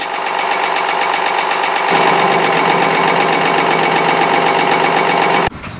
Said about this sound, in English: the sound of the engine changes